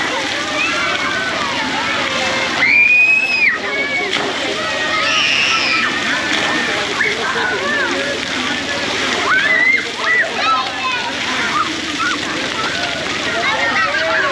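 Water sprays and splashes at a children's splash pad in the Sesame Street area of Busch Gardens, a steady near wash of falling water with voices of children and adults mixed throughout.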